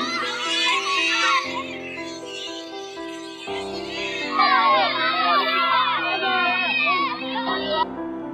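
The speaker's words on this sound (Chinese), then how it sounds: "请大家用最热烈的掌声欢迎我们《怦然心动》的男主演龙一" An audience at a film press event cheers and shouts loudly as the male lead is welcomed. Excited voices swell in a dense, continuous roar that peaks partway through.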